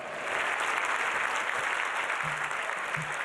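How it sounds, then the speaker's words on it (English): An audience at the Miss World 2013 pageant claps steadily and loudly, a dense wash of applause sustained throughout, with no voices standing out. "Let's give another round of applause"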